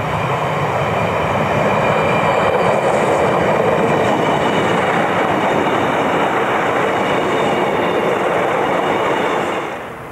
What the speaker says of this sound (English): This train, also on the up main line, was a Doncaster Cleethorpes passenger train.